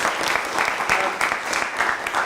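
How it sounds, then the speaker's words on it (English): An audience at a LiveRead LA script-reading event claps for two contest winners, giving a sustained round of applause with sharp individual claps. Faint voices sit beneath the clapping. "And we have to do some clapping."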